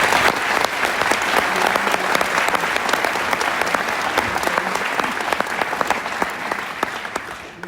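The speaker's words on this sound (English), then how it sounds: "Let's give them another round of applause." An audience applauds a brass band at an evening concert in Hunstanton, with dense, sustained clapping from a large crowd that stays loud throughout and eases slightly toward the end.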